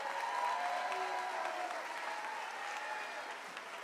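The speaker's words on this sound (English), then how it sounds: "Can we have one more round of applause for our students receiving the Presidential Award for Excellence?" Sustained audience applause at a 5th grade moving-up ceremony, honoring students receiving the Presidential Award for Excellence; steady dense clapping from a crowd that fades slightly toward the end.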